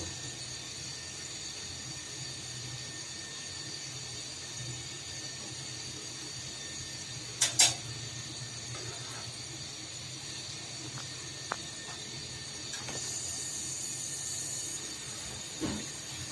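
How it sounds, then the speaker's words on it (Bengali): Fish frying in hot oil in a home kitchen, a steady low sizzle that holds evenly throughout with a couple of brief crackles and pops near the middle. "দেখুন মাছটা আমি ভাজতেছি"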